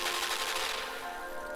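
Machine-gun fire in the side-scrolling video game Limbo, a dense burst of rapid shots and a bright crackling wash that fades slightly after the first second, with no talking over it.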